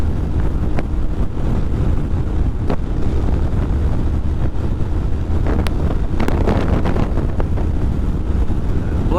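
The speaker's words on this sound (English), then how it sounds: "That wind." Strong wind roars past a Honda ADV 150 scooter at highway speed, producing a constant loud buffeting rush with sharp gusty bursts and rattles.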